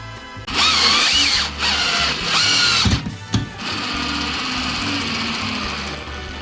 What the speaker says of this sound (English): We're gonna change this from 1, which is drill, to 2, which is torque or tightness.